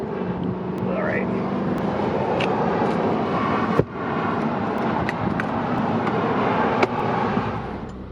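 A 1994 Isuzu Elf camper truck with a 4JG2 diesel engine cruises along in a steady, rumbling drone from inside the cab, marked by occasional sharp clicks and knocks.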